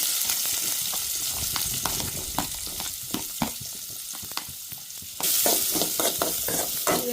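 Onion frying in a pan for a home-cooked palya, with a strong bright sizzle and regular spatula taps and scrapes, and the sizzle swelling louder toward the end.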